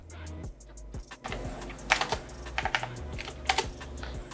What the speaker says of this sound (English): Oh, I'm gonna have to type stuff.